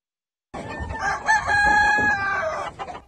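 Roosters rescued from a cockfighting ring bust, held cage after cage in an enclosure, crow loudly and close. One long crow carries over other birds' clucking after a silent start.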